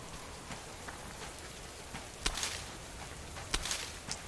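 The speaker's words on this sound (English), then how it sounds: "And we are back out in the rain again." Rain falling in the survival video game Subsistence: a soft, constant patter of drops on surfaces, faint and even, broken by a few sharper taps and splashes, with no talk.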